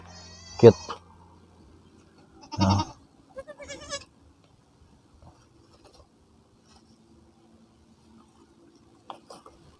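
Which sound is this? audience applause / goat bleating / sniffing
goat bleating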